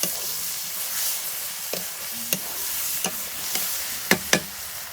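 Potatoes frying in a pan, a steady close sizzle and hiss with several sharp knocks and stirring clicks scattered through, no talk.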